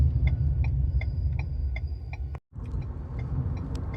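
A car driving through Windsor, Ontario, with a steady low engine and road rumble, regular faint ticking like a turn signal, and a brief dropout in the middle.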